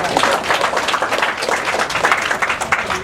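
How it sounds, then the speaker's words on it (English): Workshop participants applaud themselves after an exercise interval, a fairly loud, close round of uneven clapping that lasts about three seconds. "Give yourself a round of applause."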